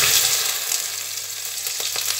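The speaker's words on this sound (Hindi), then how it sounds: "इनको थोड़ा सा फ्राई करके निकाल लेंगे" Cut okra (lady finger) frying in hot oil gives a loud, steady, close-up sizzle, with a few soft stirring knocks toward the end.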